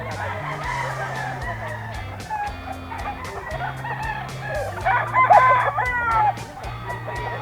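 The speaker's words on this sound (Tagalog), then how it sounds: "Yan ang mga manok ni Boss Tony." Several gamefowl roosters at a display of fighting-cock bloodlines crow in overlapping calls, with clucking and busy farmyard noise throughout and a louder burst of crowing near the end.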